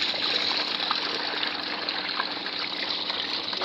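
Water steadily pouring and trickling out of a tub of detergent-soaked laundry during hand washing of clothes, a continuous close gushing sound with no voices.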